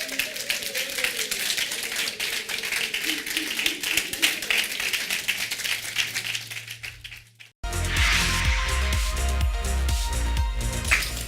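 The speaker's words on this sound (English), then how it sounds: "let us give Rosemary a round of applause" Scattered clapping and a sprinkle of applause from a small audience at a women's conference, then music starts abruptly and carries on loudly.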